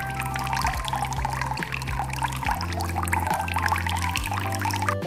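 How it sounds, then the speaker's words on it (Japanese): Water pours from a small container into a plastic DIY candy kit tray, a close, continuous trickling gurgle whose pitch shifts as the compartment fills, with no talk over it. "今から水入れます。 この線までね。"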